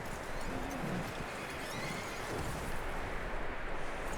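A horse in Red Dead Redemption 2 whinnies with a rising and falling neigh while hooves clop underneath, set against a dense, steady game ambience at moderate loudness.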